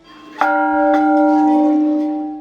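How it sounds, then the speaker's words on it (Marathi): A large Portuguese bell in an Indian temple rings out with two loud, clear strikes whose long, pure tone hums on and fades slowly, heard alone. "एक मोठी घंटा ठेवलेली आहे आणि त्याचा आवाज पूर्ण त्या गावात घुमतो"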